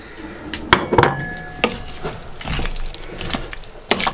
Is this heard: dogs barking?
no